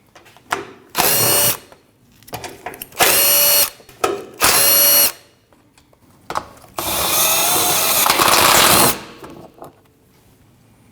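A power tool spins out the 12mm belly pan bolts on a Nissan NV2500 5.6L V8 van in loud, close bursts of whirring, several short runs and one longer one, separated by quiet gaps and small clicks.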